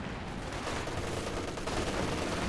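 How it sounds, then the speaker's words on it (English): Sustained MG34 machine gun fire from the battlefield of Company of Heroes 2, a dense, continuous rattle of rapid shots that stays loud and steady throughout with no pauses. "MG34 firing away."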